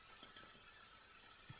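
A computer mouse click and an Enter key press on a keyboard during spreadsheet work: three short, sharp, faint clicks, two close together near the start and one near the end, over quiet room hiss.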